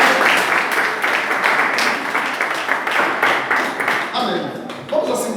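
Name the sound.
applause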